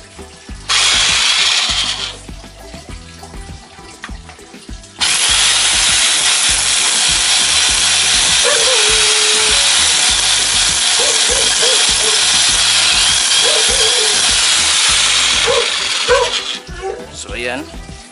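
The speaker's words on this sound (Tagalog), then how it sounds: "So itatry ko yung ating drill." A rotary hammer drill bores into concrete or stone, loud and close, with a short first burst followed by a long sustained grinding run of about twelve seconds, the whine dropping off between bursts.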